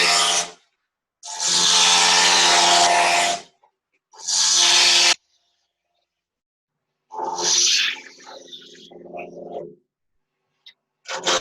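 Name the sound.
wood lathe turning spindle with roughing gouge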